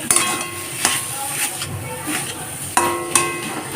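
A spoon stirs sugar into carrot halwa in a pan, giving several sharp metallic clinks and scrapes against the cookware at an uneven pace, close by and moderately loud.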